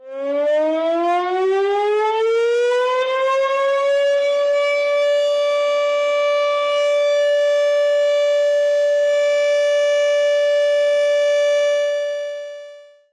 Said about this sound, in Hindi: किस टाइप का जंग का सायरन होता है